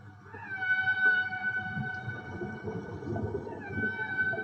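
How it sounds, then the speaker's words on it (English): Whale singing in a long, soft, low moan that rises and holds as a drawn-out tonal call, then returns for a second phrase over a faint murmur of background noise. "Whale began to sing."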